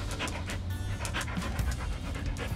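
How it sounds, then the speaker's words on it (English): A dog panting steadily and fairly close, quick rhythmic breaths running throughout without pause. "this is our dog, Sarah,"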